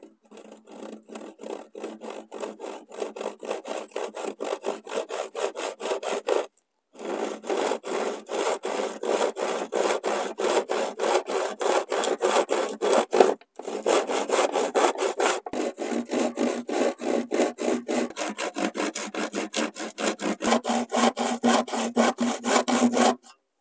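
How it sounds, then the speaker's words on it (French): A handsaw cuts through wooden formwork boards for building foundations, with steady rapid back-and-forth rasping strokes continuing close and loud, broken by two short pauses before sawing resumes. "ensuite j'y mets un coup de scie"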